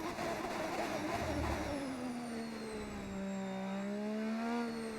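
A race car engine in F1 25 drones steadily with a tonal whine that sweeps down and then back up as it shifts and revs, loud and up close with no talk over it.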